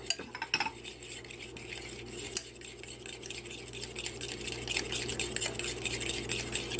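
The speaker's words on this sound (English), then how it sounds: "we're going to whisk as we put that yolk in" A fork whisks egg yolk into hot skillet cookie dough, clinking and scraping against the pan in quick, close, continuous strokes.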